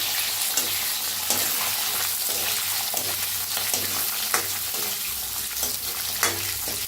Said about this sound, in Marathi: कसा कांदा भाजलाय बघा